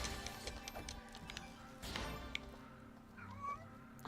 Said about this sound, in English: And there comes the cat.